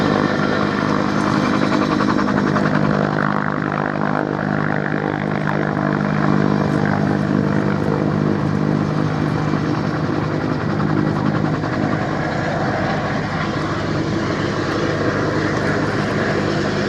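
Westland Wessex helicopter with a Gnome turboshaft engine at the Duxford air show, a loud, steady turbine whine and rotor thrum that holds constant and close throughout.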